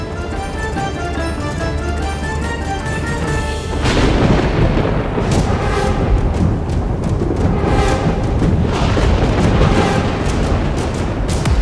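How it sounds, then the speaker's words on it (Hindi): A fierce storm with torrential rain and rumbling thunder from a devotional Hindi television drama, a dense roar that swells into heavier crashing bursts midway, with no talking. "ये भीषण आंधी, ये मूसलाधार वर्षा"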